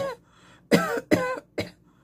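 Three short, sharp coughs in quick succession during a mock ER doctor exam, close and clear, following a brief breathy sound.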